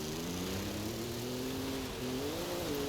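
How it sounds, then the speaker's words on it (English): A car engine in the racing game Forza Horizon 5 holds a steady, droning tone with a slight pitch rise near the end, loud and continuous with no one talking. "God, the engine sounds!"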